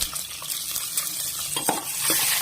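Onions sizzling and frying in a pan for beef curry, with a steady hiss and occasional stirring scrapes and clinks of a utensil, close and continuous.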